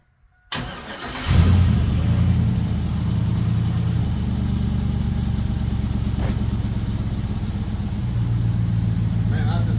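After a moment of silence a Chevrolet S10 engine cranks and catches, then settles into a loud, steady idle close by.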